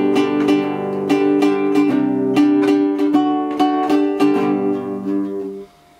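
Nylon-string acoustic guitar strummed in rhythmic chord strokes, warm and soft-edged, played up close with no voices, the strums repeating steadily before the final chord cuts off.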